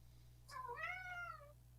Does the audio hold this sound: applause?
no